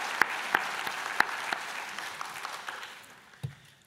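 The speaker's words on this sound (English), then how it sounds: "Give yourselves a round of applause." Health-school graduates at a Mohawk College convocation applaud in a broad, steady wash of many hands with a few sharp claps standing out nearby, fading gradually toward the end.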